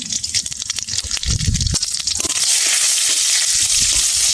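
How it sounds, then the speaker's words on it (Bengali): Panch phoron and dried red chilli fry in hot oil with a loud crackling sizzle. Early on, sharp pops and a clattering stir are heard, then the sound settles into a dense, steady hiss. "শুকনো লঙ্কার 5 ফোড়নটা ভাজা হয়ে গেছে"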